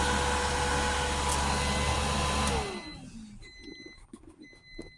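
A cooling fan on a solar generator whirs steadily at close range, then winds down and cuts off partway through, leaving faint clicks and small electronic tones.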